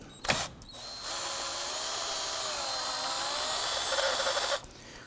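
A power tool, likely an electric ratchet fitted with a 10mm socket, whirs steadily for about three and a half seconds as it backs a nut off during a 2008-2011 Ford Focus battery replacement, preceded by a brief clack and ending abruptly.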